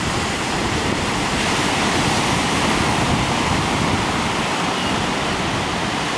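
Ocean surf breaks on a beach where people fish from the shore, a dense, unbroken hiss and rumble of water, loud and close throughout, with no voices.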